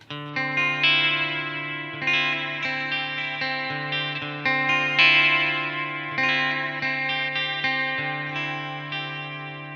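A distorted electric guitar plays sustained chords through a Peavey ValveKing 20 MH amplifier, each strum ringing out with a lingering tail from its onboard digital reverb.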